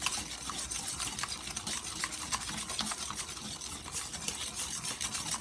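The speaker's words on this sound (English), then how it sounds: "Give this a quick whisk until it's well combined." Eggs whisked with white and packed light brown sugar for a maple pecan pie, a fast continuous rattling of the whisk against the bowl, close and steady throughout.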